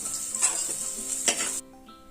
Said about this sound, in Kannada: ಈಗ ಅರ್ಧ ಈರುಳ್ಳಿಯನ್ನು ಫ್ರೈ ಮಾಡೋಕ್ಕೆ ಹಾಕ್ತಾ ಇದ್ದೀನಿ